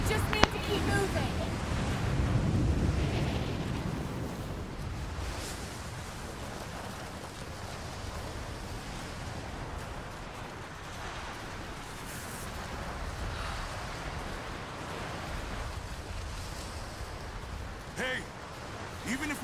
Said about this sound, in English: This wind is crazy.